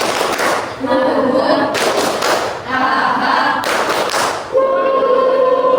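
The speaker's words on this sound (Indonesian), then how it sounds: "kita terakhir kita coba tepuk irian dulu" A class performs the rhythmic Irian clap, with sharp grouped bursts of hand claps and thumps repeating in a patterned beat while children's voices chant along.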